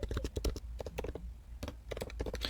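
Fingers tap rapidly on a computer keyboard in bursts of quick, close clicks separated by short pauses, with no talking over them.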